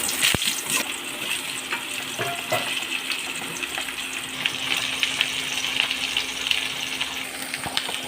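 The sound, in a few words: vegetables and potatoes added to hot oil, frying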